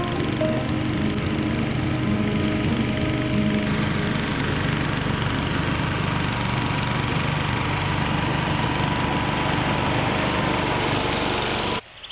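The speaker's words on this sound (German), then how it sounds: "Ja, der Motor läuft nicht so gut. Wahrscheinlich ist er wieder ein bisschen verharzt, mein Vergaser." A petrol lawn scarifier engine with a gummed-up carburettor runs continuously and loud at close range, a steady rough drone with a knocking undertone, cutting off abruptly at the very end.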